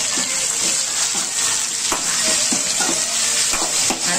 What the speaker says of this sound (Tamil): நல்லா வதங்கணும் தக்காளியும்